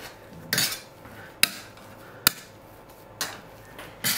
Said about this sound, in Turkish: Şöyle bir patates ezicisiyle güzelce ezeceğim öncesinde.